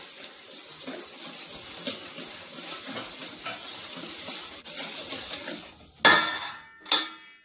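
Batter for Greek olive oil cookies being beaten in a bowl, with a steady scraping and knocking of utensil against the bowl, then two sharp louder clatters near the end.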